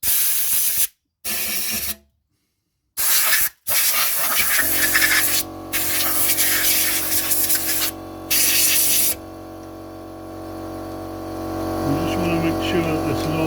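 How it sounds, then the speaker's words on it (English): A short aerosol spray squirted into a trailer wheel bearing to flush out welding spatter, two or three quick close hisses broken by silence, then a steady hum of machinery or engine noise carries on alone. "Just a wee squirt in here, just in case we've got any bits of welding spatter in the bearing."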